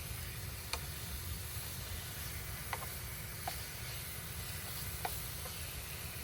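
Food sizzles quietly in a non-stick pan on a 1600-watt electric camp cooker, a soft steady frying hiss broken by a few faint ticks and pops, with no talk.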